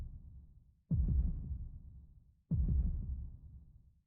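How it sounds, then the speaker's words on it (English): Slow, booming heartbeat effect from the video game Legend of Dragoon, two heavy low pulses spaced well apart, each decaying gradually into near silence, with no voices present. "I really like that heartbeat sound"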